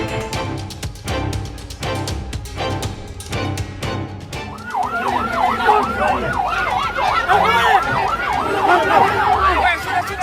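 An ambulance carrying an emergency patient moves along a carnival route. Rhythmic percussion hits give way to a loud, wailing siren that rises and falls steadily over the noisy street crowd.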